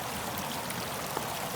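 Gentle water flowing down a hosta leaf shade garden fountain, a steady close trickling and splashing babble that continues evenly throughout with no voices.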